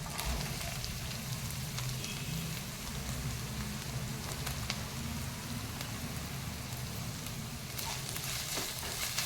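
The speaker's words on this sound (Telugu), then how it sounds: "ఇది కూడా నేను హై ఫ్లేమ్లో పెట్టి వేయించేసుకుంటున్నాను." Cabbage and capsicum stir-fried on a high flame with ginger and garlic for sprouts fried rice give a loud, continuous sizzle and crackle, with occasional sharper pops and stirring scrapes, and no talk.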